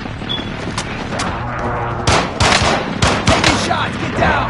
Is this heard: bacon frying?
no